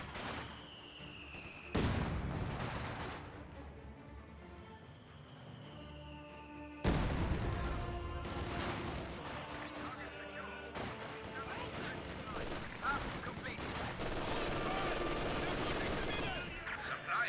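A British machine gun team firing in the real-time strategy game Company of Heroes, heard as bursts of gunfire and heavy impacts within a loud battle din, with abrupt swells and a commentator talking throughout.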